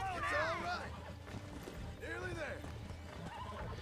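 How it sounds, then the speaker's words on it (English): A horse in the Red Dead Redemption video game whinnies loudly twice during horse breaking, shrill wavering neighs a couple of seconds apart over hoof clatter and a busy game soundscape. "Oh, this horse breaking thing does go on for a while."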